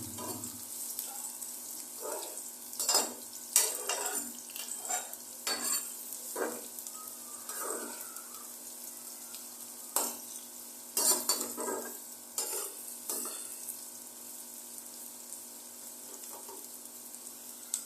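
Onions browning in oil in a pan for a beef paya dish, a soft sizzle with frequent scraping stir strokes, close but fairly quiet.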